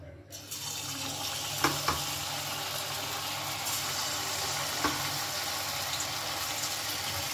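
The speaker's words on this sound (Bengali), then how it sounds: "তেল গরম হয়ে গেছে, এবারে তেলের মধ্যে দিয়ে দেব আমি ব্যাটারের মধ্যে চুবনো ফুলকপিগুলো" Batter-coated cauliflower pieces for chilli gobi dropped into hot oil, giving a steady, dense sizzle and crackle with a few sharper pops, close and continuous throughout.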